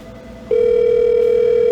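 A steady PBX extension dial tone on an Incredible PBX 13 phone system starts abruptly after a short stretch of low room noise and holds loud and unbroken to the end.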